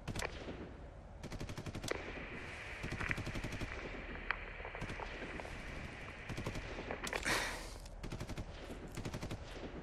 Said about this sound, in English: I love the gunfire in the background.